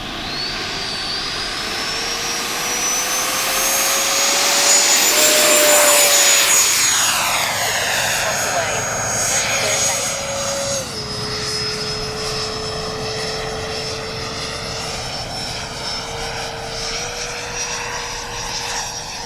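A 90mm EDF RC Eurofighter jet taxis nearby with a loud, steady ducted-fan whine that swells, shifts pitch a few times and holds alone.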